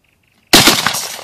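A single loud, sharp blast bursts out after a faint beeping tone and rings out into a decaying boom, from shots fired in a combat setting.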